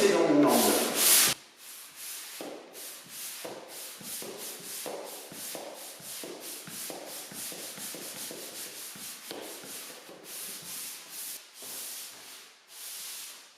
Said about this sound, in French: je vais prendre ma cale et je vais la mettre de travers et je vais pousser dans mon angle